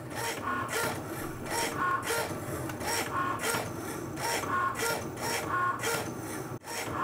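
A Cricut Maker cutting machine slices fabric, giving off a busy rhythmic whirring and rasping with repeated bursts of carriage movement, close and steady, with no voices.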